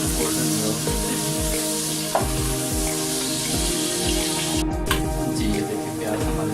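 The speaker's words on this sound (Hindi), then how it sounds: "प्याज है इसको ऐड कर दिए। अब हम इसको गोल्डन ब्राउन करते हैं।" Onions fry in a pan of hot oil on the way to golden brown, a dense, continuous sizzle heard up close, with a few clinks and stirring scrapes breaking through the crackle.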